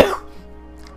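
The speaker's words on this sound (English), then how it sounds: "Okay, that was a real cough." A single sharp cough from a man playing Minecraft, loud and close, then quickly fading into quiet room tone.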